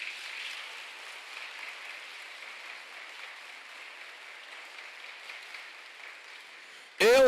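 Soft, distant applause from a congregation during a Catholic sermon, a thin continuous patter that fades gradually before a sudden loud burst cuts in at the very end.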